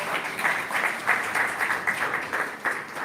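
An audience claps at a community listening session hosted by the NAACP Greater Grand Rapids. Sharp, irregular bursts of clapping give the applause an uneven, pulsing texture throughout.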